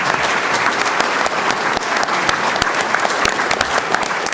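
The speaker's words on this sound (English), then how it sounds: "So if we could give them a round of applause." A packed hall audience at a State of the Community Address in Jacksonville breaks into dense, sustained applause for city officials including the mayor, loud and even throughout with no speech over it.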